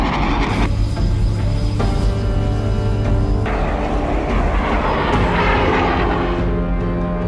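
Jaguar ground attack and reconnaissance jet with Rolls-Royce turbofan engines, used by the Indian Air Force, giving a loud steady roar with a sustained droning whine throughout, no voices.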